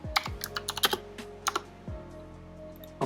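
Someone types on a computer keyboard while writing Flutter code, giving sparse, quick key clicks with pauses between them. The keys sound close and fairly quiet in a calm room.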